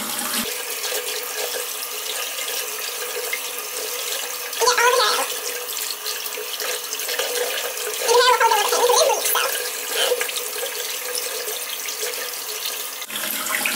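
Warm tap water runs steadily from a faucet while dye is rinsed from dark hair, a continuous close hiss with brief splashy changes where the stream strikes hair, under soft faint talk.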